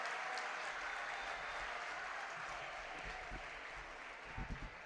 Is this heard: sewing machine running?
no